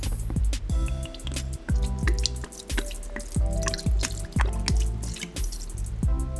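Wright's liquid smoke glugs and drips out of a 3.5-ounce bottle into an Instant Pot, giving a close, uneven run of wet splashes and drips with no talking.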